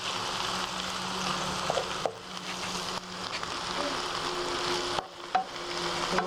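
Turkey escalope sizzles and simmers in a frying pan, a close, continuous crackling hiss that holds at an even level, briefly dipping at a few moments as if the pan is stirred or moved.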